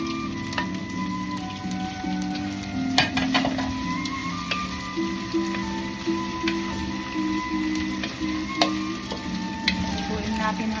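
Shrimp frying in a pan with garlic, onions and ginger, a loud, close, steady sizzle with occasional clinks of a utensil stirring, no voices.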